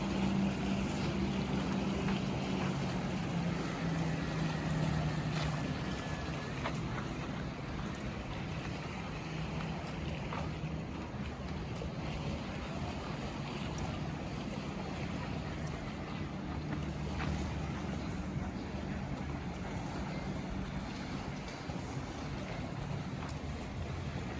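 Boats on Lake Tahoe near Emerald Bay give a faint, distant engine drone under steady wind, lapping water and a breezy open-air background.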